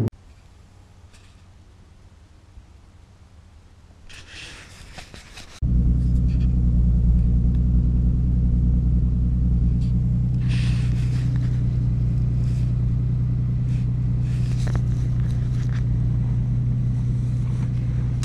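A Ford Mustang's engine rumbles from behind the wheel, starting as a quieter idle, then a sudden loud, steady low drone as it drives on, with a few brief clicks and knocks along the way.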